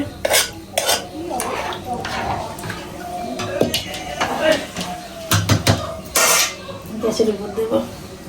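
A spoon scrapes and stirs fried rice for pilau inside a metal pot, with repeated clinks and scrapes, some sizzling underneath, and people talking nearby.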